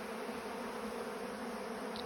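Honey bees buzzing around a beekeeper's wax-coated filters set out for them to clean, a steady, close, droning hum of many insects with no voices.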